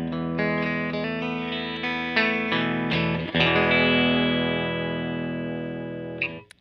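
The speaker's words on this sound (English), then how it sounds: "I'm playing on a Fender Stratocaster into a 1966 Fender Twin Reverb." Clean Fender Stratocaster electric guitar through a 1966 Fender Twin Reverb amp plays a series of plucked notes and chords, close and full, with a sustained ringing passage toward the end and no talking.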